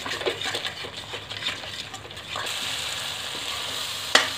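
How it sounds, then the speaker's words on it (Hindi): Kadai paneer masala with cream mixed in sizzles and fries in oil in a kadai, a steady close crackle that swells louder partway through, with a brief sharp clink of a utensil near the end. "मेरा मसाला अच्छे से भून चुका है और देखिए तेल भी बाहर हो चुका है मसाले से"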